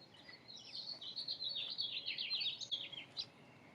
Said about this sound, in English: Let's just listen to those birds for a moment.